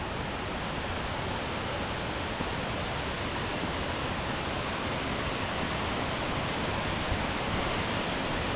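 The Kuang Si waterfall in Laos, fed by water running down from the hills, gives a steady, dense rush of falling water, continuous and unbroken, with no voices over it.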